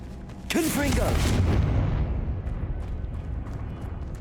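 A Confringo fire spell in Hogwarts Legacy goes off in a loud, booming blast that rumbles and fades over a few seconds, with a person talking over the start of it.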